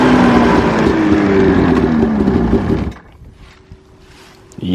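An old abandoned snowmobile with a sticky clutch revs loudly for about three seconds with a falling engine whine. It then drops to a quiet idle, and a brief rev rises again at the end.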